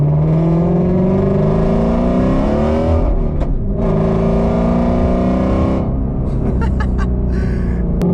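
A 2018 manual Porsche GT3 engine howls loudly and close up while driving, rising in pitch through the revs, dipping briefly at a gear change, then climbing again with sharp crackles near the end.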